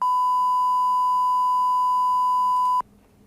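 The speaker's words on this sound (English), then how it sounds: "You got this bar and tone right here, and then you got the audio tone over here as well." Steady test tone from a bars-and-tone clip in Premiere Elements, a pure, loud, unbroken beep holding for nearly three seconds before cutting off abruptly, with faint background hum and no voices.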